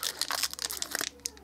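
Scissors snip and crinkle through plastic toy packaging on a blind-bag doll, a run of close, sharp crackles and rustles lasting about a second before going quiet, with one last brief crinkle.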